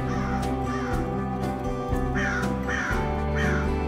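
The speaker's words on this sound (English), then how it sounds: "This time, the crow fell for his words and started singing." A crow caws repeatedly in a rhythmic series of harsh calls, about five caws over a few seconds, heard over a steady background of music.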